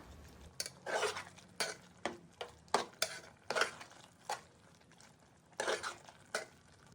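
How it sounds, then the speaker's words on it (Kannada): Spoon stirring spices into chicken liver fry in a pan, with about a dozen irregular scraping strokes against the metal over a faint background. "ಸ್ಪೈಸಸ್ನ ಮಿಕ್ಸ್ ಮಾಡ್ಕೋತಾ ಇದ್ದೀನಿ."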